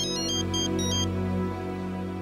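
An electronic telephone ring sounds in a few quick repeated bursts at the start, then stops, leaving a steady low indoor hum in a scene from a Tamil TV serial.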